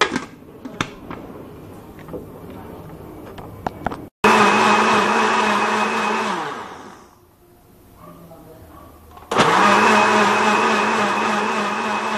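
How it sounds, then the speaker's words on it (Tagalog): A blender runs loudly in two bursts, pausing briefly between them; the motor whines steadily, slowing down and then starting up again. "bago po pala natin siya initin or lutuin sa ating stove, i-blender po muna natin siya"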